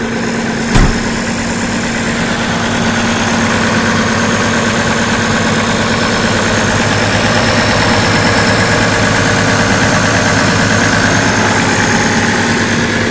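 An International 1086 tractor engine idles close by, a loud, even diesel drone with a strong steady hum, with one brief clunk near the start and no talk.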